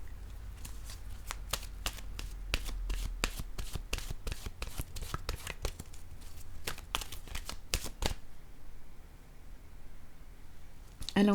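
Oracle cards from an intuitive-soul deck being shuffled in dense bursts of crisp riffling snaps for about eight seconds, then a quieter pause, close and alone with no talk.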